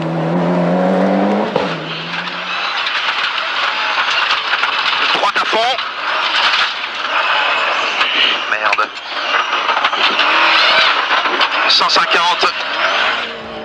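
Ford rally car spinning on a slippery stage at the 1995 Rally GB in Wales, engine revving and tyres squealing loudly throughout beneath a commentator's voice.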